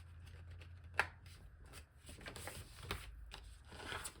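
Rough paper trimming for a junk journal, with a sharp snip near the start followed by soft rustling, scraping and handling of paper, quiet and close with no talking.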